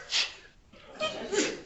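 A sneeze indoors during a finance workgroup meeting: two short breathy bursts about a second apart, moderately close in a quiet room with no speech over them.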